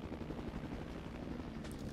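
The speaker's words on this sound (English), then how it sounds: "Right now you can see me ordering in a helicopter" A helicopter in the online shooter Renegade X gives a steady, continuous rotor drone, low and rumbling with broadband wash, holding even throughout with no voices.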